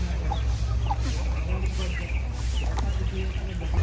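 Turkeys clucking on a farm while one eats grass, scattered short calls over a steady background hum, with someone talking throughout.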